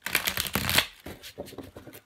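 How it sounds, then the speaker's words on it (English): A deck of cards riffled and shuffled up close, a quick burst of crisp flutters followed by a few softer, shorter riffles. "I'm just going to give these a shuffle"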